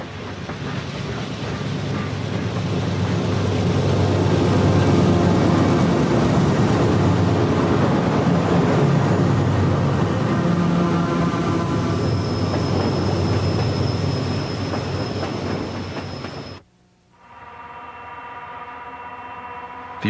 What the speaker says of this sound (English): how they got this train up to speed so quickly up this grade